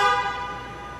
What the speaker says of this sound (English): Horn honk symbolizes that tire's been learned.